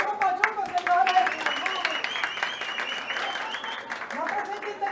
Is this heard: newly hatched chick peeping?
no